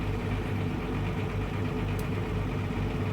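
Submarine engine room in the naval game Wolfpack, a loud steady low droning machinery rumble with a constant mechanical hum and vibration throughout, unchanging and alone with no voices.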